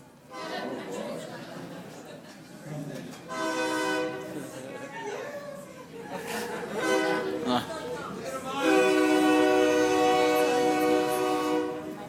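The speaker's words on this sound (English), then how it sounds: "So we hear the train" A train rumbles past with its horn sounding in long, loud blasts, mixed with voices and chatter nearby.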